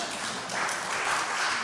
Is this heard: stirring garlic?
no